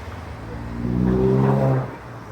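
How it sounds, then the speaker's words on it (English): Car driving past on a road, a single engine swelling up to a peak and then fading away within a couple of seconds, close and fairly loud. "Where's all these cars coming from?"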